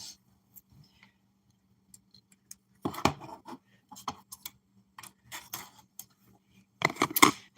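A small part being snipped off, likely with scissors: quiet, scattered clicks and short cutting sounds in near silence, with a louder cluster of snips near the end.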